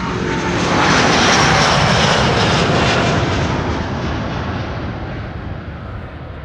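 Delta Air Lines jet airliner on Flight 163 to Minneapolis at Amsterdam Schiphol, its engines roaring loud and broadband close by, swelling in the first seconds and then slowly fading as it passes.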